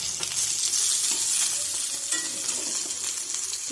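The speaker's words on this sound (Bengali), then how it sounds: "কড়া কড়া করে মাছগুলো ভাজছি" Fish pieces fry until crispy in a pan of hot oil, giving a loud, steady hissing sizzle throughout with occasional light scraping of stirring, with no one speaking.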